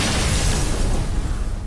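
Cobra Shot card effect in Hearthstone, a digital card game: a dense, rumbling explosive burst that is loud at first and slowly fades over under two seconds, with no talking.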